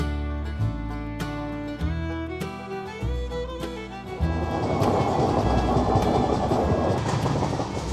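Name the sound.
train running on rails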